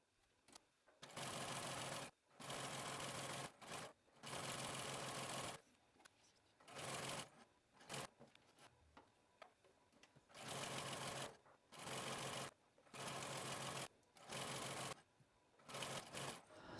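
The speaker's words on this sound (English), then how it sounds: "now that I have stitched my 2 lines of gathering" A sewing machine runs bursts of stitching along gathering lines on a Cassidy skirt, about ten stop-start runs of steady whirring, each a second or so long, separated by short pauses, close and clear with no talking.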